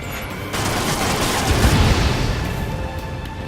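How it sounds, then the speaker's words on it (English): An F-35C Lightning II launches a missile in Ace Combat 7: a loud, sustained roaring whoosh that swells about halfway through and then eases slightly, over steady jet engine noise. "Missile away"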